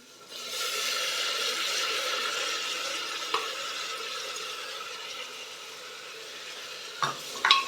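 Chopped tomatoes fry in a pan over a medium flame with a steady, close hiss that eases slightly over time, ending with a few clattering knocks of utensils near the end.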